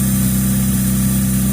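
A car engine with a dirty interior idling up close, giving a steady, even low hum with a constant tone and no change in pitch.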